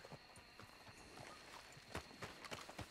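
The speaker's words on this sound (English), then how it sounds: "I'm just going to pull my new horse out of there." Hooves of a horse in Red Dead Redemption 2 clip-clop in a quick, irregular rhythm at moderate distance, faint and steady with no speech over them.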